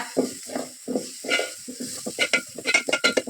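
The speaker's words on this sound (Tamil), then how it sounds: "சேர்த்துட்டு ஒரு டைம் கிண்டி கொடுத்துக்கோங்க" Ground masala and onions being stirred in a pan: a series of close, rhythmic scraping strokes over a soft background sizzle, growing quicker toward the end.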